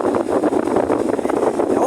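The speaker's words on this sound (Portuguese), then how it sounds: "é o vento. Tá muito vento aqui." Strong outdoor wind in San Francisco buffets the microphone with a constant loud, gusty rumble that flutters unevenly throughout.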